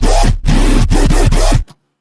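A dubstep growl synth built in Sytrus with the operator ratio set to 4 gives loud, harmonically dense pulses, four sustained bursts cut by brief gaps before stopping abruptly with silence after.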